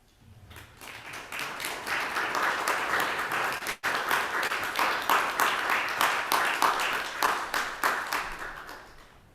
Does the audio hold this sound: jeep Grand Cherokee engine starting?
no